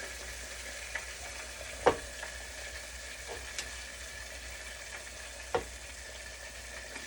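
Food frying in a pan for a tilapia and kale dinner makes a soft, steady sizzle with a few sharp utensil knocks and scrapes from stirring, fairly quiet and close.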